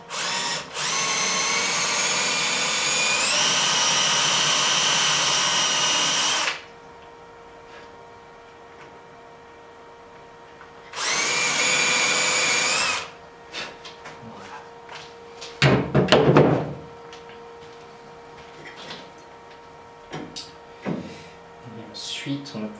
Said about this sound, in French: avec une mèche de 5, on va percer pour le bec